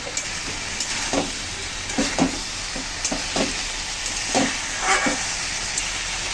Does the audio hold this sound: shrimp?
yes